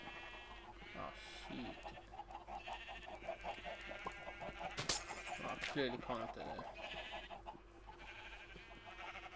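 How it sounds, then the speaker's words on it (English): Sheep bleating in Minecraft, several short repeated bleats from white and black sheep at close range, heard under a player's talking and other game sounds. "I've got some white sheep, black sheep."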